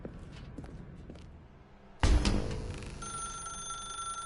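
A telephone rings in The Stanley Parable, starting with a sudden loud burst after quiet footsteps and then sustaining a steady, bright electronic ring.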